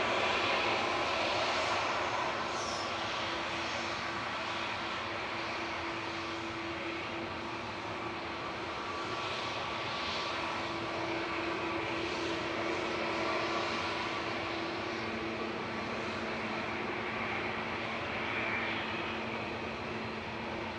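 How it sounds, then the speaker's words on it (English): An Airbus A350-1000 airliner departs at Manchester Airport, heard as a faint, distant, steady jet rumble with a faint engine whine running through it and no talk. "A350-1000 departing in front of us"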